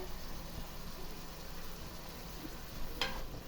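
Chicken shawarma sizzles steadily in a pan, a soft, continuous frying hiss at moderate level with one brief brighter crackle near the end.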